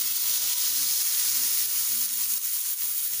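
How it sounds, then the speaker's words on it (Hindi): Hot oil sizzles steadily and loudly as spices temper for a raw banana curry, a continuous frying crackle with faint low clatter underneath. "ये हमने इसमें तड़का लगा दिया।"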